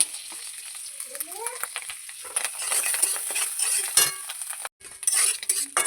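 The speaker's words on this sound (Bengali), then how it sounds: "আরে তেলের মধ্যে নেড়ে নেবো না" Freshwater snails are stirred in hot oil in a pan, giving a loud crackling sizzle with clinks and scrapes of a utensil. A brief voice sounds early on, and there is a short silent gap near the end.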